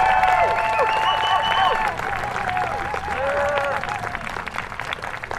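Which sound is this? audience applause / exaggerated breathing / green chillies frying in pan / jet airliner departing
audience applause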